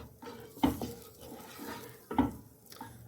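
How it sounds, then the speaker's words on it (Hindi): A spatula stirs semolina and milk for suji halwa in a pot, giving two distinct scraping clinks against the metal over a soft, faint background. "इसे साथ साथ मैं स्पैचुला से मिक्स करती जा रही हूँ, ताकि इसकी गुठलियाँ ना बने"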